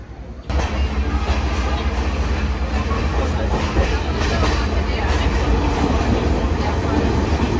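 A passenger train travelling in Sri Lanka, heard from inside a crowded second-class carriage, gives a loud, continuous rumble and rattle of wheels and coaches, with faint voices mixed in.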